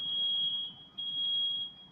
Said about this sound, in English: That's the fire alarm going off.